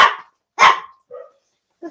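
Dogs bark indoors in a room, two loud sharp barks followed by two softer, shorter yips, separated by brief silences, with no talking.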